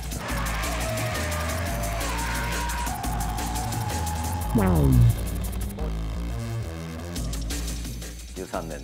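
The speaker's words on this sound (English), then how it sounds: "The car I use to drift right now is called an AE86." A 1983 Toyota AE86 drifts, its engine revving hard while its tires squeal and skid. The loud, close sound rises and falls as the car slides, with a sharp engine sweep midway.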